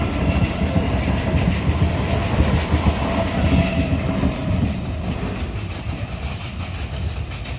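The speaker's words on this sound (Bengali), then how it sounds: "ট্রেনটা তারকেশ্বর যাচ্ছে হাওড়া থেকে।" A passenger train running from Howrah to Tarakeswar rumbles past a closed level crossing at Nalikul, loud and close, with a steady roar and rhythmic wheel clatter over the rails that eases slightly toward the end.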